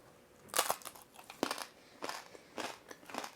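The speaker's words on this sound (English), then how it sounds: "You know what's so crazy about the skin is like, you bite into it, you hear this crunch" Crispy roast pernil pork skin crunches loudly as it is bitten and chewed, giving a series of close, sharp, crackling crunches in irregular bursts with short quiet gaps and no talking.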